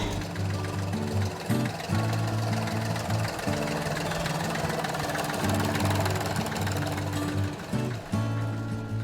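A Steyr 180A two-cylinder tractor engine runs nearby with a loud, thumping idle knock, steady and rhythmic, briefly dipping and recovering a few times in its chugging beat.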